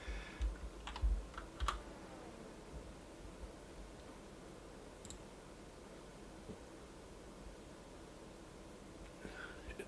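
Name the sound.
typing on a computer keyboard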